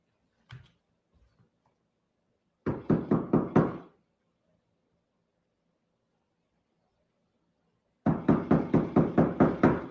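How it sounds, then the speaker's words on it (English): Knuckles rap on a door in three bursts: a lone knock, then a fast run of about six, and after a long silence another rapid run of knocks, close and crisp in a quiet room. "why are you knocking on the door?"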